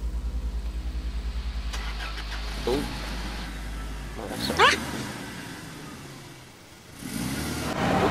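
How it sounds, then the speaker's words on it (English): A car engine roars in the horror video game Cry of Fear, with a low pulsing rumble that swells and then cuts off as the car strikes the player, alongside brief voiced exclamations and talk. "Got hit by a car."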